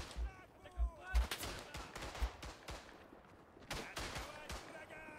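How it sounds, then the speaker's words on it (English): Gunfire in Battlefield 1 on the Tannenberg map: scattered rifle and machine-gun shots, some near and punchy, others distant, sounding in irregular bursts amid general battle noise and faint voices. "Bullets flying."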